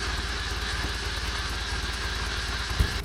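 A 1970s bulldozer engine under repair idles with a steady, rapid low chugging pulse, heard close and continuous, with a brief clunk near the end.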